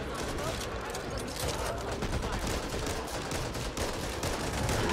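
Dense, rapid gunfire from the video game Back 4 Blood, a continuous rattling burst that stays at an even level throughout.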